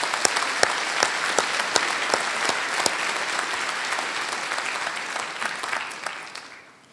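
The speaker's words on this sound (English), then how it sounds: "let's a round of applause for these folks as well" Audience applause after a university presenter introduces graduation keynote speakers, sustained and steady with individual claps audible, fading away at the end.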